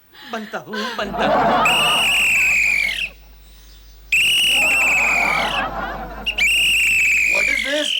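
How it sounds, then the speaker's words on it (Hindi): A watchman blows a shrill whistle in three long, loud blasts separated by short pauses, with voices and laughter around them. "लेकिन आप सीटी क्यों मारो?"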